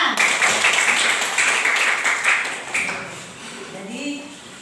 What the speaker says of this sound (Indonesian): Terima kasih, tepuk tangan.